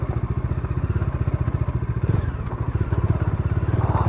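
A new motorcycle on a group ride jolts over a rough road, its engine pulsing steadily and loudly up close while the frame rattles and clatters with each bump.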